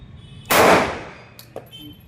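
A single loud gunshot from an HPM Hughes .380 ACP pistol, a sharp close blast with a decaying tail, followed by a couple of faint clicks or clinks.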